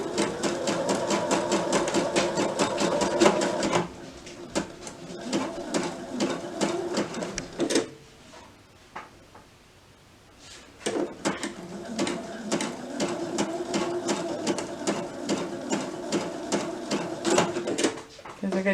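A sewing machine stitches around a curve in fast, steady bursts of rapid needle clatter, pausing briefly midway before resuming at full speed.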